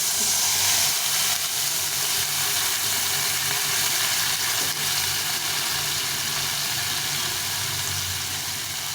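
Spice paste water poured into a hot frying pan with ginger and green chilli hisses in a loud, broad, steady sizzle that holds for the whole stretch, slowly easing slightly.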